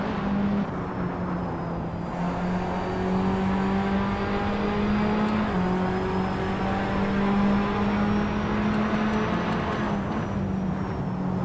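Tatuus FA01 open-wheel race cars launch from the start at Watkins Glen in Assetto Corsa, a loud, steady engine drone with rising and shifting pitches as the pack accelerates together, close and unbroken throughout.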